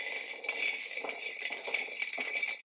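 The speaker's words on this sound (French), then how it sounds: "Ce que vous entendez en ce moment, c'est Thomas qui s'amuse dans sa soucoupe." Baby Thomas plays in his baby saucer, shaking and knocking plastic toys in a continuous bright rattle with uneven bursts, close by and moderately loud, with no talking.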